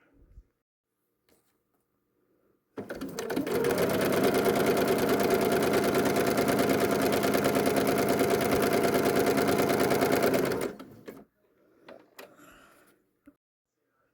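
Sewing machine stitching quilting fabric along a line on a foundation paper-pieced sunflower pattern, one steady loud run of about eight seconds with a sharp start and stop, then brief faint handling sounds.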